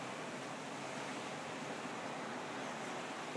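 Ocean waves wash steadily onto a beach in Panama City on an autumn morning, a continuous broad surf roar that stays even and fairly soft throughout, with no voices.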